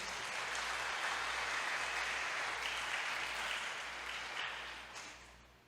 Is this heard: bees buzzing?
no